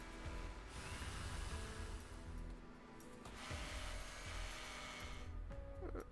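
In the NIKKE video game, a drill grinds against crystals with a faint, sustained whirring buzz that dips briefly and then surges again, distant and low in level.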